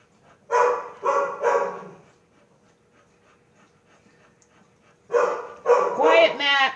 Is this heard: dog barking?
yes